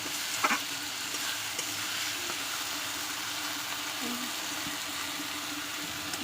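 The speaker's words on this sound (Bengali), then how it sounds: "এরপরে আমি ভেজে রাখা মাছগুলো এতে দিয়ে কষিয়ে নেব।" Fried fish pieces and potatoes sautéed in spice masala, a steady low sizzle with occasional spoon stirs and one brief clink early on, close and fairly quiet throughout.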